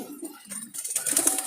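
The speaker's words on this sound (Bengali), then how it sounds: "আর এইখানে আরও অনেকগুলো কবুতর আছে" Jalali pigeons coo softly in a loft, with a couple of low throaty calls and then a burst of higher, brighter noise like wings or rain nearby, all brief and close.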